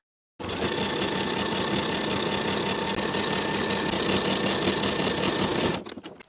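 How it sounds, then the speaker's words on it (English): A sewing machine stitches a sweater waistband with a 3/8 inch seam allowance: a steady, close, rapidly pulsing motor whir that runs without pause for several seconds, then stops abruptly. "Sew the waistband in place, stretching the waistband slightly from point to point with a 3/8 inch seam allowance"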